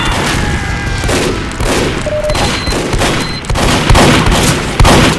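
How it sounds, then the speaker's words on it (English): Video game firefight with constant rapid gunfire and heavier booms, dense overlapping shots from several weapons, loud and unbroken, with brief tonal game cues scattered through. "Trying to kill the guy who was shooting on the bridge"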